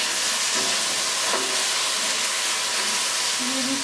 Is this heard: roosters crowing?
no